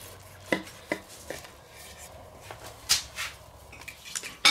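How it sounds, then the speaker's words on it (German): A knife cuts through a grilled meat roll filled with cheese and sauce, slicing it on a board with a few sparse taps and soft scrapes, quiet and close. "Und dann kriegt man schöne Scheiben geschnitten."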